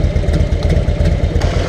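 A Harley-Davidson engine idles loudly and up close with a throbbing, rhythmic low pulse and light mechanical clatter. The engine cooling fans are being switched on over it.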